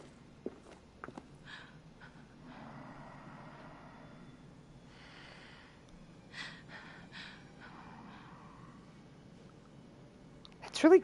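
Creepy breathing in the horror video game Until Dawn, with faint, drawn-out breaths and gasps amid soft footsteps and clicks, quiet and uneasy before a sharp louder burst at the end.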